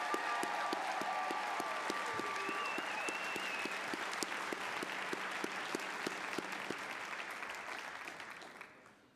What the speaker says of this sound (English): Will you join me for one additional round of applause for the Millikin Brass Quintet